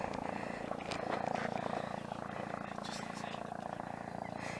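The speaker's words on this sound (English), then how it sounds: "Yes, helicopter's coming," A helicopter approaches overhead on a sunny day by a canal and park in Daventry, Northamptonshire, a faint, steady rotor thrum and engine drone under light outdoor noise.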